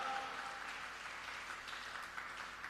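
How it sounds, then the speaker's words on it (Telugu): A congregation at a Christian church service claps together in steady, continuous applause, heard somewhat distant and even in level throughout. "కొట్టండి గట్టిగా చప్పట్లు."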